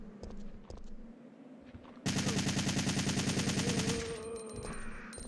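Sustained rapid automatic gunfire from a full magazine dump in a Resident Evil video game, a loud unbroken burst of shots for about two seconds that then tapers into softer clatter.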